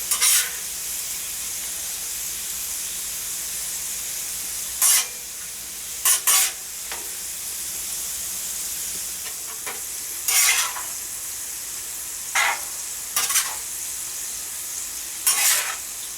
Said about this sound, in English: We're getting our first round of ground beef on the griddle. I'm going to brown it up.